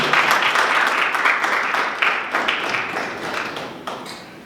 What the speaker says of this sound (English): please give a round of applause for the lady.